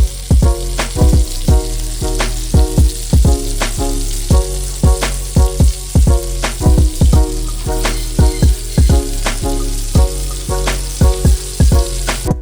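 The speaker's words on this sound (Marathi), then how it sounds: "बला मसाला मासा फ्राय त्याचं कालवण पण भारी लागते" Bala fish fries in a pan with a steady, loud sizzle, overlaid by frequent sharp crackles and pops at an irregular rhythm throughout.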